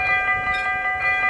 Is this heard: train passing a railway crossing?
yes